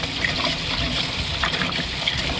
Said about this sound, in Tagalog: maghugas na tayo ng ating bigas